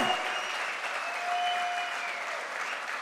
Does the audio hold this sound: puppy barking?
no